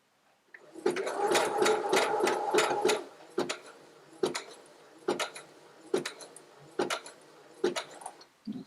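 Sewing machine stitching fabric for baby name blocks, a short fast burst of close stitching followed by a series of single slow needle strokes spaced about a second apart.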